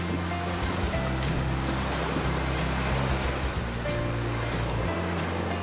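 Sea waves wash steadily onto the shore at Lagonoy, Camarines Sur, a continuous broadband surf roar with low rumble throughout and no voices.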